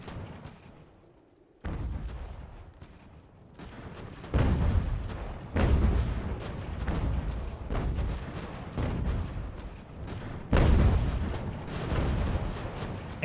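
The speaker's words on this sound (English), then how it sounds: "Enemy cannons are targeting our militia." Enemy cannon fire in Ultimate General: American Revolution during a fort defence, a series of heavy booms spaced a second or two apart, each with a rumbling tail, moderately distant over battle ambience.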